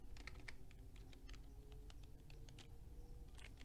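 Someone types a name on a computer keyboard, producing an irregular run of soft, quick key clicks over a steady low background hum, fairly faint and with no talking.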